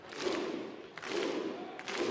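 Darts crowd at the Melbourne Masters final performs the Viking clap: three rhythmic surges of massed clapping and shouting, roughly one second apart, from a large arena audience.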